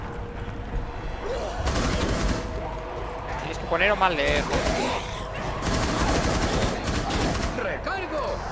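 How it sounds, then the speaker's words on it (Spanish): Rapid bursts of gunfire in the video game Rainbow Six Outbreak rattle through a steady game soundscape, with players talking over the shooting. "Disparos concisos, cortos y a la cabeza si es posible."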